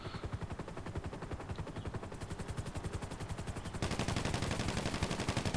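Mounted gun on a Cargo Bob helicopter in GTA V Online fires in a rapid, steady automatic stream, loud and continuous, growing heavier and denser toward the end, with no talking.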